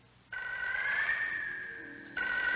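A telephone rings in two electronic bursts, the first long and steady and the second starting just before the end, clear and fairly faint against a quiet background.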